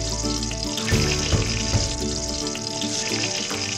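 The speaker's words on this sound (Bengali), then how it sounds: "তেল গরম হইছে না এন্ড বেগুন দিয়ে দিব" Eggplant pieces sizzle and crackle loudly in hot oil in a home kitchen pan, with a few sharp clatters as they are dropped in and stirred, steady frying throughout and no talking.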